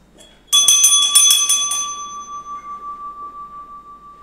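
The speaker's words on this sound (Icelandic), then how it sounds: "Góður hljómur í bjöllunni, það tekið eftir því." At a Reykjavík city council meeting a hand bell is rung, several quick bright strikes followed by a long clear ringing tone that slowly fades and pulses, loud and near, with no talk.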